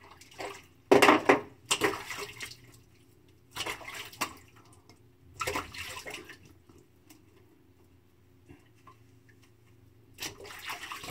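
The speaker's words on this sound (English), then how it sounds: "Now rinse my face," Water splashing as a face is rinsed after a razor shave with a Parker 26 razor: a few bursts of splashing and dripping at close range, separated by quiet pauses, with faint trickles between.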